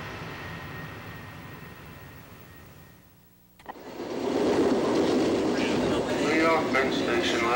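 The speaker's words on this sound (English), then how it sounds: "As Long Island Railroad trains enter the tunnels into Penn Station" A Long Island Rail Road train roars into the tunnels toward Penn Station, a quiet rumble giving way to a sudden loud, dense rushing and rattling that stays up close, with speech underneath.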